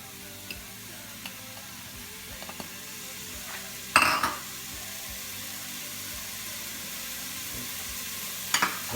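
Chopped onions, about one and a half, tipped into a hot pot for chili beans: a brief clatter as they land, then a soft, steady sizzle of frying with faint scrapes and taps of a utensil.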